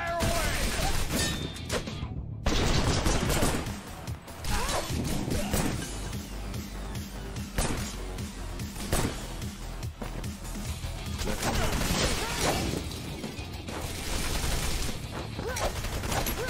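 Rapid bursts of gunfire and crashing impacts from the action game Wanted: Dead, dense and loud throughout, with a voice calling out over the shooting.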